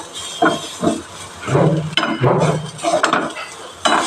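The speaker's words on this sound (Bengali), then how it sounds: "চালটা আমি এবারে হাঁড়িতে ঢেলে দেবো" Gobindobhog rice tipped into a hot cooking pot for khichuri, giving several close bursts of hissing, rattling sizzle that swell and fade over a few seconds, with no talking.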